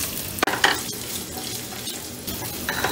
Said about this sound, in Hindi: अब इसमें ये आलू डाल के इन्हें शैलो फ्राई कर लेंगे।